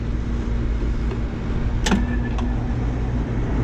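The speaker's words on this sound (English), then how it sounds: "Condenser fan came on." An outdoor air conditioner condenser fan on a unit with an iced-up compressor whirs at a steady, loud, close level, with one brief click partway through and no talk.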